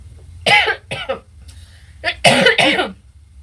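Several sharp, harsh coughs from one nearby person, two separate bursts followed by a louder double cough, with faint room hum between them.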